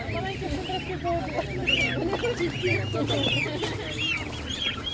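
Poultry at an outdoor animal market, with ducks, turkeys and geese, cluck and squawk in a busy overlapping chorus close by, amid a murmur of people talking in the background.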